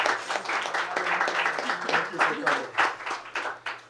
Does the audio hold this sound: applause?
yes